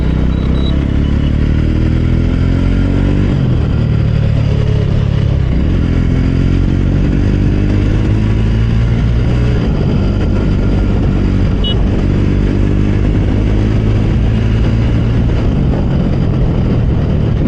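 A Jawa 42 2.1 motorcycle ridden out of city traffic, its engine loud and close throughout, rising and falling in pitch through several gear changes, with wind rush and no talking.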